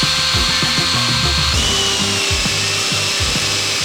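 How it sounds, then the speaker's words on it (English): A power drill whines continuously at close range, its pitch and load shifting in rhythmic pulses as it bites into metal shock tabs for a 4Runner. "Now we drill."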